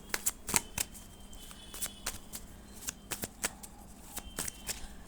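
Tarot cards shuffled by hand in a quick run of crisp riffles and flicks, close and clear, continuing steadily for several seconds with no talking.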